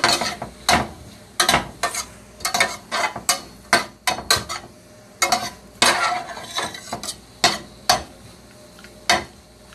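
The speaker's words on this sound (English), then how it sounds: "I'm going to stir all this goodness together." A veggie burger mixture is stirred in a hot pan, with a spoon scraping and clacking against the pan in a steady run of sharp, close strokes under a faint sizzle. No one talks.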